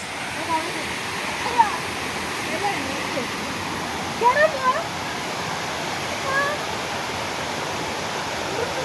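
A hidden waterfall in the Kerala outdoors gives a steady broadband rush that fills the whole scene at a moderate level, with a few brief voices and small sounds rising above it.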